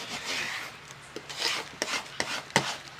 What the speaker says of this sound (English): I'm going to use that same scraper tool and I'm just going to press it down